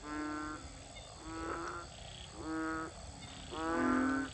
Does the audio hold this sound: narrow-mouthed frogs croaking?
yes